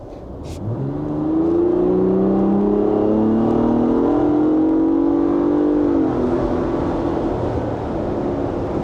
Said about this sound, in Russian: Я разгонюсь, чтобы вы просто послушали звук.